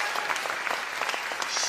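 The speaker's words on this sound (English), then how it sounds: "We have a round of applause for Jeannie." Audience applause at a Vice President event honoring Asian American and Pacific Islander communities, a steady crowd of clapping hands held at an even level for the whole short stretch.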